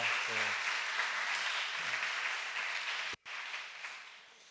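Church congregation applauding warmly, a sustained dense wash of clapping with brief voices near the start and a momentary dropout before the clapping resumes.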